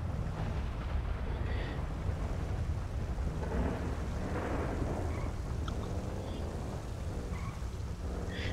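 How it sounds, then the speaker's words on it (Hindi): Heavy rain with rolling thunder in the video game GTA 5, a steady dense downpour holding an even level throughout with low rumbles underneath and faint higher tones drifting in and out. "बाहर निकला तो बारिश बहुत तेज़ हो रही थी"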